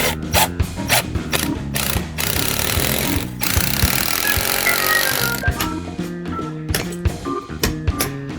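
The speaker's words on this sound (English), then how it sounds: "now I just gotta screw it all into place." A power driver sends screws into a bathroom fixture during a master bath remodel. Several loud, close whirring bursts run in quick succession, with one longer sustained run in the middle.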